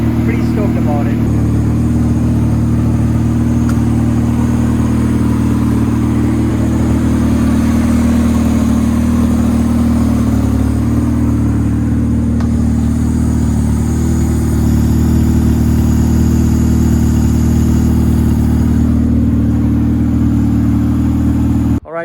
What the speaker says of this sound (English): so the car starts up, but we are facing one issue